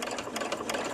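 Sewing machine stitching a belt rapidly, a quick rhythmic mechanical whirring, close and steady.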